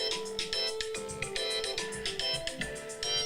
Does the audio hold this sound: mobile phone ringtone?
yes